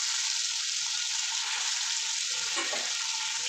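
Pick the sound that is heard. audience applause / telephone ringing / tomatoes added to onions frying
tomatoes added to onions frying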